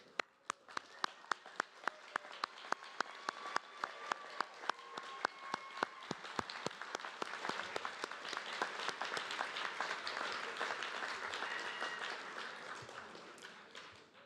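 Graduates at a university convocation and awards ceremony applaud their families and friends, starting as rhythmic, distinct claps and swelling into dense, sustained applause from a large crowd in a reverberant hall, fading out near the end.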